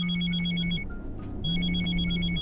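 A mobile phone rings with a repeating electronic ringtone in two loud, close bursts separated by a short pause, with no talking.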